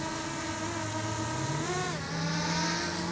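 A car drives off in Hollywood near the Intracoastal, its engine note rising steadily as it accelerates, a loud, close, continuous hum with no talking.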